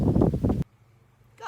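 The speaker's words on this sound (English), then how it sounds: "gust of wind just blew you over" A sudden gust of wind in a garden buffets the microphone with a loud, low roar for about half a second, then cuts out, followed by a faint rustle near the end.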